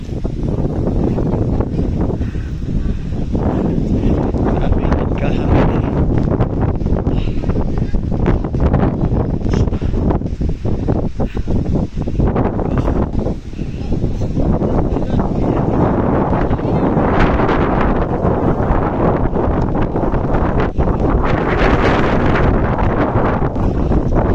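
Strong wind at a mountain campsite overlook buffets the microphone in a constant, heavy rumbling roar, with voices faintly audible beneath the gusts.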